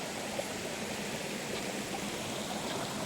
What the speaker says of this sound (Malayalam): ആ സൈഡിൽ കൂടെയൊക്കെ വെള്ളം നല്ലോണം ഇറങ്ങി വന്നിട്ടുണ്ട്